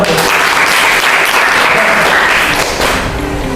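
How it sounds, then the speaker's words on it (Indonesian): Students in a classroom break into a burst of loud, dense clapping that carries on steadily and then tapers slightly near the end. "Tepuk tangan dong."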